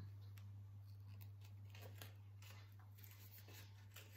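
Quiet, repeated snipping of scissors cutting paper for a scrapbook card, in irregular short bursts over a steady low hum.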